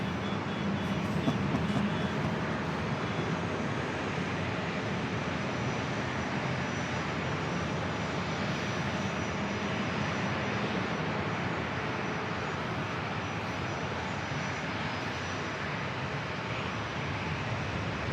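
An older Delta airliner without winglets rolls for takeoff on runway 27 at San Diego airport, a steady, broad jet engine roar heard at a distance that holds level and unbroken throughout.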